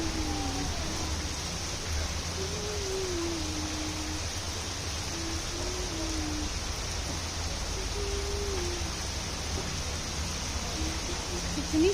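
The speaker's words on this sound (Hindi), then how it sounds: "अब कितनी ज़्यादा तेज़ बारिश हो रही है" Heavy rain pours down on an early morning in Agra, a steady hiss of falling water that stays constant throughout, with a faint wavering tone running faintly beneath it.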